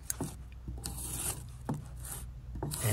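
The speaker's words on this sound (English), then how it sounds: "It's cutting cleanly all the way through." A drop-point knife blade slices through cardboard in a series of short, close scraping and tearing strokes, each ending in a soft thud, moderately loud with no talking.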